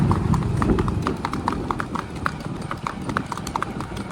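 A horse's hooves clip-clop in a brisk, regular rhythm, each strike crisp and fairly close, continuing steadily with a faint background murmur.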